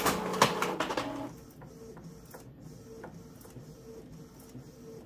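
A printer runs with a busy mechanical whir and clicks at first, then settles into quieter rhythmic feeding sounds with periodic soft clunks.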